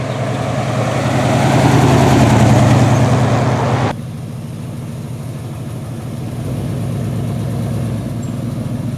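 A 1985 Ford Bronco's engine rumbles steadily, loud and close, swelling in the first few seconds before dropping to a lower, even idle-like throb.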